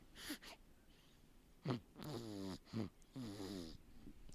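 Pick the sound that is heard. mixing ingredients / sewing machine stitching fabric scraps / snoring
snoring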